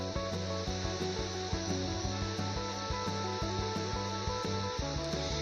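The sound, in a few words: small onions sautéing in a pan for drumstick sambar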